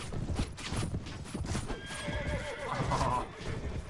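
Horse hooves clip-clop in a Mount and Blade battle, with neighs and whinnies rising over busy combat noise throughout.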